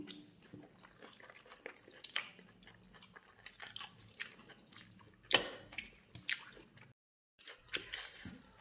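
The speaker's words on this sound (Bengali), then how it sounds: "তো শিমটা দিয়ে মেখে নিয়েছি, চলো খাই" Rice mixed by hand with green beans being eaten up close, with quiet wet squishy chewing and occasional smacks at an irregular pace; no speech.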